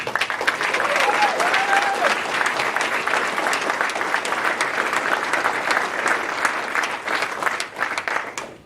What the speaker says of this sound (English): how about a round of applause for our host command leadership